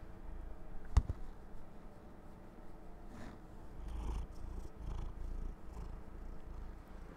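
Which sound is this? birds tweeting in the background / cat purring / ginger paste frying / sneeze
cat purring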